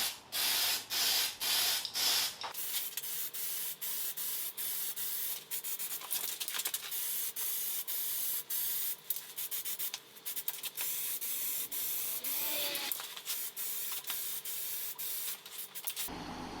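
Aerosol spray paint hisses onto a Toyota 4A-G engine head cover during an MR2 restoration, sounding as a steady, loud, close-up spray in long continuous bursts broken by brief pauses, with no talking.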